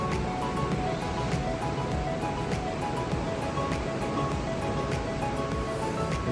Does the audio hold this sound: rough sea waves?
yes